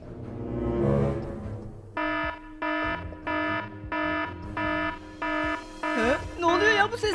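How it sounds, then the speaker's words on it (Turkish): A repeating alarm in the Minecraft video game, sounded as a zombie alarm: steady electronic beeps in an even on-off pattern, with warbling siren tones near the end and voices talking over the start. "neden alarm atıyor? Çocuklar dikkatli olun, bu zombi alarmı."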